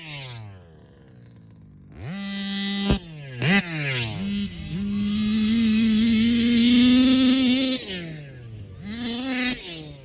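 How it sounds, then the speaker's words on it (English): A Kyosho USA-1 nitro RC truck engine with an exhaust leak revs in bursts: a loud, buzzing two-stroke whine that rises and falls in pitch, cuts out briefly, then holds a sustained high-rev wail before dropping and revving again. "So I had a little bit of an exhaust leak."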